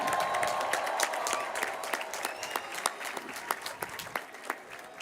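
Audience applause rings out at an LMU graduate and Loyola Law School commencement ceremony, a dense sustained wash of many clapping hands that gradually thins into scattered individual claps toward the end.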